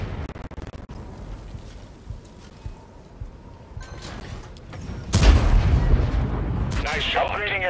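A tank cannon firing in the World of Tanks video game, one loud booming blast after a stretch of low rumbling battle noise, followed by a sustained roar and a game voice.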